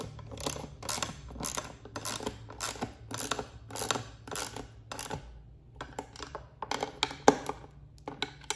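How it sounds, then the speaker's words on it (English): Ten millimeter nuts being tightened on a Tesla Cybertruck light bar bracket, a quiet run of quick ratcheting clicks coming in short repeated bursts, close by, with no talking. "go ahead and tighten up the 10 millimeter nuts"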